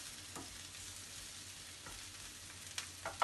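Sweet white and green peppers with onion softening in a pan for Hungarian-style lecho, a faint, soft sizzle broken by a few brief scrapes of stirring.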